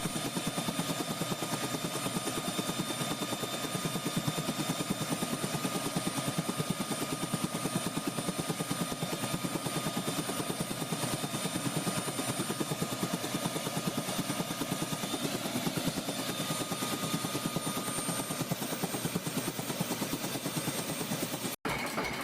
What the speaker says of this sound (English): The Allison 250's clear layout and reliability have made it one of the most successful turboshaft engines